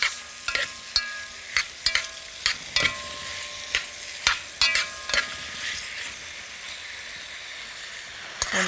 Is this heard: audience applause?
no